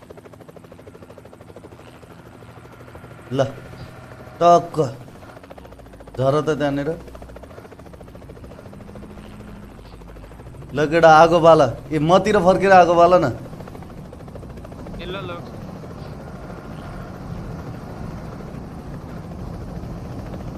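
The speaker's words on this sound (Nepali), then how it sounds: "अरे हेलिकप्टर कडा रहेछ अहिलेको यार" A helicopter in the Payload 2.0 video game drones steadily throughout, a continuous rotor hum underneath several bursts of excited talking from players.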